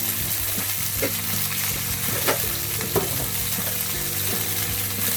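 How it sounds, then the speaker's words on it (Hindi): Vegetables fry in a pan with salt and turmeric, giving a loud, continuous close sizzle broken by a few scraping stir strokes, with no speech. "इस सब्जी को अच्छे से लाल करके फ्राई करना है।"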